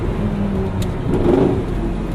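A Lamborghini Gallardo engine pulls hard during a night drive, heard from inside the car as a loud, continuous rumbling roar with a brief break around a gear shift.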